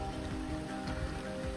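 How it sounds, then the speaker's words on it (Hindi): Rain falls steadily on a mountain road during a cycle expedition between Bageshwar and Almora, making a continuous close patter and hiss with no voices. "पूरी देखो बारिश हो गई है"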